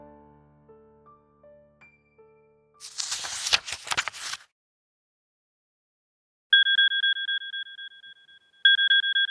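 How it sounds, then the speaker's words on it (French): An oven timer rings: a short descending electronic melody, then a burst of rattling noise, then a loud repeating two-tone beeping alarm that pauses and resumes. "C'est le minuteur du four de maman."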